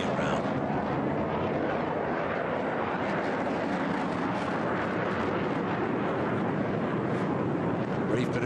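HAL Tejas fighter jet at an air show in Bahrain accelerates with afterburner lit, producing a loud, continuous roaring rumble with crackling texture that persists without letup.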